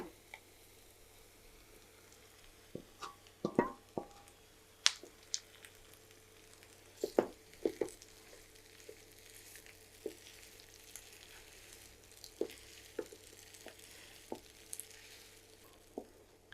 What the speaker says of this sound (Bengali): এখানে আমি পেঁয়াজ আর মরিচ আর আলুটাকে খুব ভালো করে মিক্স করে নিয়েছি